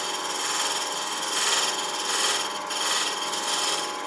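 Tool chamfering the edge of a Palo Santo wood box on a lathe, a steady scraping hiss with slight rhythmic swells across the cut, close and continuous.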